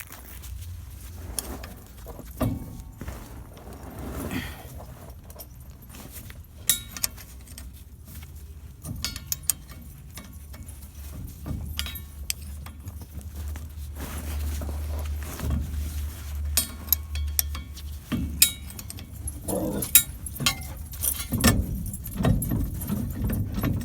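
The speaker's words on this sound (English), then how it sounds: "we're going to start by removing 4 of these 9/16 bolts here" Four 9/16 bolts are worked loose from the drive shaft of a 1983 GMC K1500 Sierra Classic, with steady metallic clinks and jangling of tools and hardware over a low background rumble.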